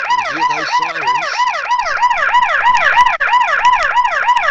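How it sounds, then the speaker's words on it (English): Emergency vehicle siren wailing up and down in a fast, steady rhythm, loud and close, sounding alone without any talk. "If they don't want to see these flashing lights and hear those sirens"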